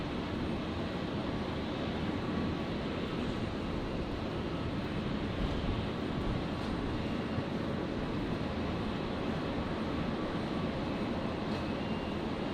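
At Brisbane airport, an aircraft taking off gives a steady, broad engine roar that holds at an even level for the whole stretch, distant-to-moderate and unbroken, with no voices.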